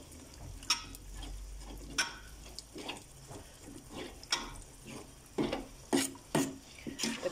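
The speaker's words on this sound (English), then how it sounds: "I'm going to be adding in my tomato paste and give this a good mix" A spoon stirs tomato paste into South Indian fish curry in a pan, giving scattered clinks and scrapes against the metal over a faint low sizzle, close up with no voices.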